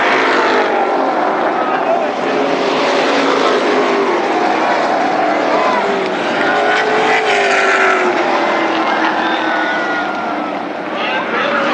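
Late model race cars roar around Berlin Raceway in a dense, loud, continuous engine drone with shifting pitches as cars pass, heard under a commentator's talk.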